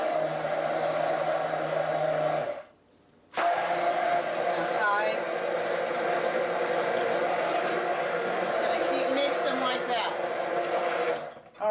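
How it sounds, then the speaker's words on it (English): A stick blender whirring through soap batter, a loud, steady motor drone that cuts out briefly then starts again and runs continuously, with faint voice-like sounds mixed in. "I'm going to use my stick blender"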